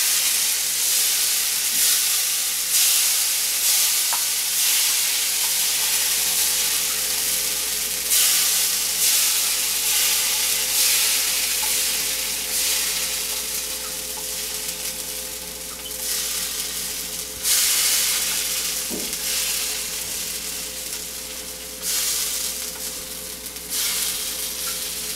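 Chit roti cooks in a hot pan over medium-high heat, a steady, close sizzling hiss that carries on unbroken, swelling slightly at moments.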